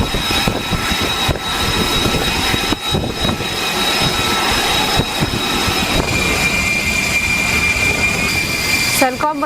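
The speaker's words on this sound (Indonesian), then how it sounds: "persiapan jet tempur siluman F-35B yang akan lepas landas di atas kapal USS Boxer di Laut Arab" F-35B stealth fighter jet engine running on the deck of the USS Boxer in the Arabian Sea, a loud continuous roaring whine with steady high tones that holds throughout.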